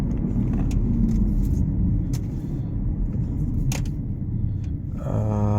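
Steady road rumble and engine hum from inside a car on a test drive for hard steering wheel shaking when braking, continuous and close, with a few faint clicks and a tonal whine near the end.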